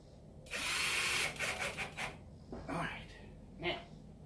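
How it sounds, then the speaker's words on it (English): A power drill drives screws into window hinges in a few short, close bursts of whirring, the first one longest, followed by faint rustling. "Just go ahead and put all of your screws in."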